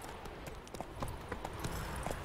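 Horse hooves clip-clopping in The Witcher 3, a quick irregular run of hoof thuds on the ground under faint game ambience, fairly quiet and close.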